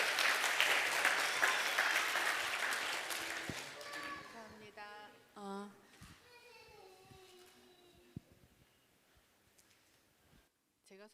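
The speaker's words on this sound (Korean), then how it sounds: "우리 한번 박수로 우리 환영하도록" A church congregation at a Korean Sunday service applauds to welcome someone coming forward to give a baptism testimony, with sustained clapping that fades over several seconds before scattered voices, clicks and speech follow.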